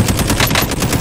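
Rapid automatic machine gun fire from the video game Call of Duty Modern Warfare, a loud continuous burst of tightly spaced shots with no pause.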